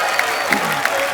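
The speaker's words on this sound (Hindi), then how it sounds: "जोरदार तालियां के लिए।" A studio audience at a comedy talk show applauds in a steady, dense patter of clapping that fills the short moment, with crowd noise mixed in.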